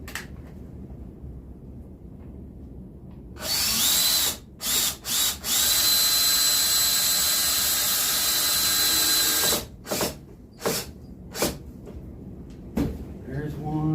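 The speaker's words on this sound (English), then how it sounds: "What else you can do is shoot screws back into it." A power drill drives screws back into a full body deer taxidermy mount, with one long whirring run followed by several short bursts and pauses, close and loud.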